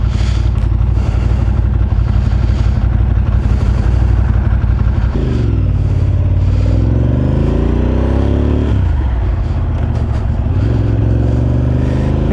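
A freshly serviced motorcycle engine runs loud and close throughout, a steady rumbling idle with two rising revs partway through.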